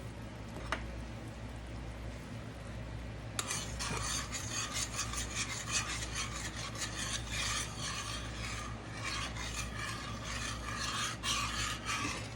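Heavy cream is stirred into a garlic parmesan chicken sauce, a rapid rasping scrape of a utensil against the pan starting after a few seconds of quiet and carrying on steadily.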